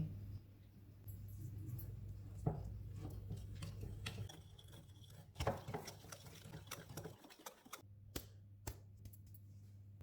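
A spoon mixes melted butter with powdered sugar for coconut biscuits, giving soft scraping stirs and light taps against the bowl over a low steady hum, fairly quiet and close.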